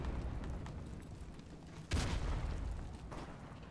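Gunfire in Call of Duty Modern Warfare, heard as a muffled, distant crackle under a steady low rumble, with one louder burst near the middle and a smaller one toward the end.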